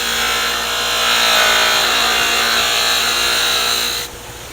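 Bevel of a woodcarving tool being sharpened, a steady, loud, close abrasive whir and grinding hiss that cuts off near the end, leaving a softer motor hum.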